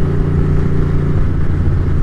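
A Ducati M900 motorcycle engine with a freshly repaired clutch runs smoothly in a steady, close-up rumble that holds an even, unbroken tone throughout.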